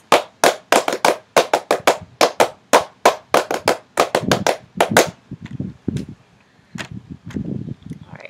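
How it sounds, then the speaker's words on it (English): A football crowd in the stands claps hands in unison to a cheer, giving crisp, evenly spaced loud claps in a fast steady rhythm before breaking into looser scattered claps and cheering voices. "let me hear you clap your hands."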